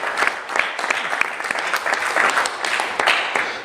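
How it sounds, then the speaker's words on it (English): A live audience at a talk claps in a lively, uneven burst, individual hand claps crisp and close throughout. "So we can all clap about that, huh?"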